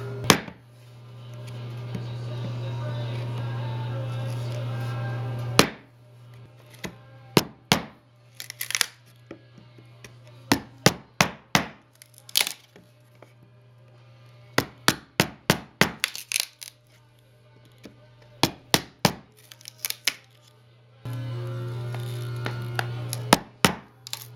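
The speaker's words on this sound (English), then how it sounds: "I've cut all of the scores here so that I can punch the rest of these out with the chisel" A steel chisel is struck with a hammer to punch out waste from hand-cut wood dados, sharp, ringing knocks arriving in irregular bursts and quick clusters over a low steady hum.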